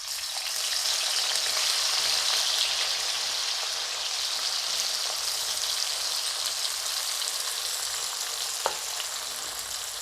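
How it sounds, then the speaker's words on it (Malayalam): Sliced onions deep-frying in oil for Hyderabadi dum biryani, a dense, loud, continuous bubbling sizzle that holds steady for the whole stretch, close up with one brief clink near the end and no voices. "ഇനി നമുക്ക് കുറേശ്ശെ നമ്മുടെ സവോള വറുത്ത് ഊരിയെടുക്കാം"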